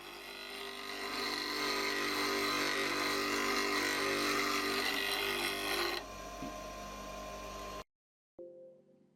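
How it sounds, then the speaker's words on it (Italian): A wood-turning gouge being sharpened on a grinding wheel, likely with a pendulum jig: a steady, loud abrasive grinding drone lasting several seconds, easing off briefly, then cutting out to near silence with a faint resumption at the end. "Prima dell'uso è buona norma riaffilare la sgorbia alla mola, anche ricorrendo al jig a pendolino."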